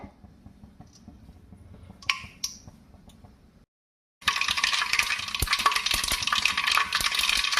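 Mustard seeds splutter in hot oil for tempering with sparse pops and ticks, then the sizzle turns into a dense, loud crackle close by after a brief silence.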